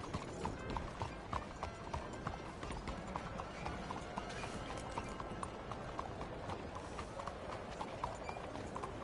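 Horse hooves galloping in Red Dead Redemption 2, a dense, steady clip-clop rhythm running throughout at moderate volume, with faint background ambience.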